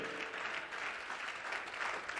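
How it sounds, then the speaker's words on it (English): Members of a church congregation at a joyful praise service clap their hands together, a faint, continuous patter of many hands with no voices standing out. "Clap your hands and give God praise."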